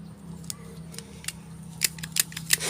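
Scissors snip while pieces are trimmed for a Thai baisri offering. Crisp cuts come sparsely at first, then in quicker bursts toward the end, over a low steady hum.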